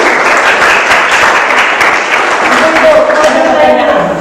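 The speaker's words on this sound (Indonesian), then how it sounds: "Kasih aplaus untuk kelompok Anda" A classroom group finishes presenting and gets a burst of clapping from the audience, dense and fairly loud, continuing for a few seconds as a voice talks faintly underneath.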